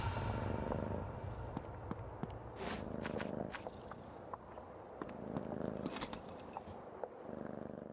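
Steady low purring of a cat in the video game Creepy Tale 2, close and continuous throughout, with faint clicks and soft game ambience layered over it.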